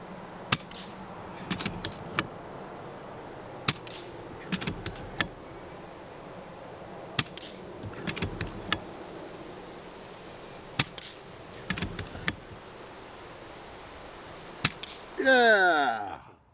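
An FX Dreamline Compact air rifle fires a series of sharp, isolated cracks with pauses between them, often paired with quick metallic clicks of the action, followed by a brief voice at the end.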